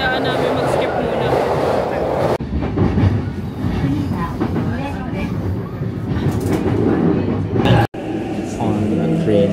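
Riding a train in Japan: a continuous rail rumble with rhythmic clatter and brief sharp jolts, while people talk throughout.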